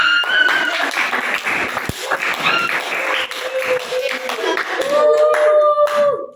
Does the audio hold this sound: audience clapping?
yes